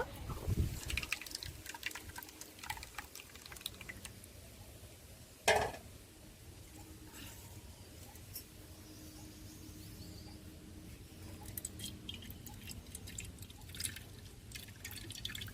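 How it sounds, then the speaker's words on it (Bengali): Yellow neem-leaf paste thinned with water drips as it is strained through a cloth, a steady quiet patter of liquid with a single louder splash partway through, close and alone without talk. "বন্ধুরা এই অর্না দিয়ে আমি ছেঁকে নেব"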